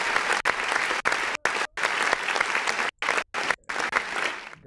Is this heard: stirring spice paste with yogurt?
no